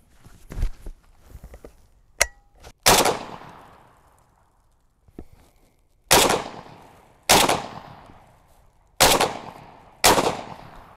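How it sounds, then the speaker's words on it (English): Typhoon Defense XII shotgun fired outdoors into a dirt berm, with two sharp blasts early on and then four loud, evenly spaced shots near the end, each followed by a decaying echo and no talking. "I took a few shots, run a little bit of this, make sure everything functions fine."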